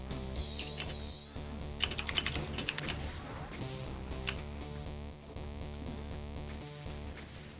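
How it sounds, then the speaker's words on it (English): Someone types loudly on a computer keyboard, fast rapid key clatter running through the whole stretch over steady background game audio with music-like tones. "typing loudly in my video"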